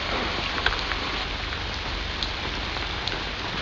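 Steady rain patters on surfaces, a dense even hiss with a few louder drips standing out.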